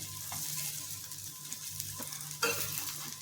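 A potato-stuffed chapati roasts on a hot pan, giving a steady, soft sizzle throughout with a couple of brief clinks near the end and no talk.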